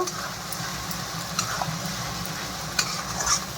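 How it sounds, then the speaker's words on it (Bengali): Spice masala of chilli and coriander powder frying in oil for Bengali biryani, a steady close sizzle with scraping stirs and a few sharp spatula clicks against the pan. "দিয়ে এখন এই মশলাটা ভালো করে কষিয়ে নেব"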